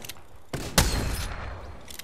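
Gunfire in the video game Apex Legends: a short burst of shots followed by a louder, sharper volley that rings out and fades, with little else around it.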